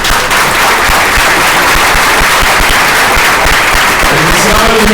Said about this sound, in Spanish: Así que vamos a darle un fuerte aplauso